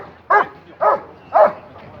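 A dog at a pet show gives three loud, close barks spaced about half a second apart, with brief quiet between them.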